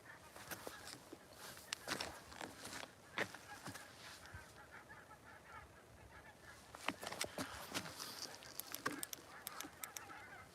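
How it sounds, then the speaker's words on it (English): Geese give loud, irregular honks at night on a snowy fishing outing, with bursts of calls clustering toward the end over a faint background hiss. "Hear the geese, people."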